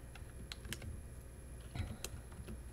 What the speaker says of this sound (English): we're going to type the negative 16